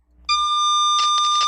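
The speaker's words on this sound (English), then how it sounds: "That's the low tone." A sound modem sends its low calibration tone: a steady, loud electronic tone that starts abruptly, rich in harmonics, with bursts of broadband noise layered over it toward the end.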